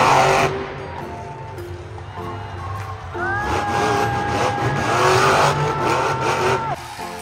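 A toy stunt car gives off electronic engine and revving effects with rising and falling whines and squeal-like tones, loud and close, starting after a brief quieter moment and cutting off near the end.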